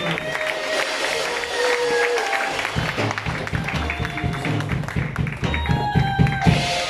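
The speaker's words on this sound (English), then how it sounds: "Clap for Jesus" A church congregation claps during a Friday worship service, a dense rhythmic patter of many hands that swells and grows more percussive toward the end, with voices mixed in.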